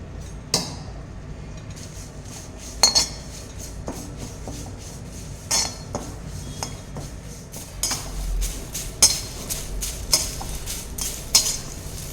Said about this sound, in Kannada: ನೋಡಿ, ಕರಿಬೇವಿನ ಸೊಪ್ಪನ್ನು ಈ ಥರ ಹುರ್ಕೋಬೇಕು.